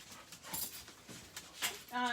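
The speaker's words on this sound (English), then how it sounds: "Dogs are pretty excited this morning." Several excited dogs whimper and yip in short bursts close by, a sharper high yelp near the end, while someone talks over them.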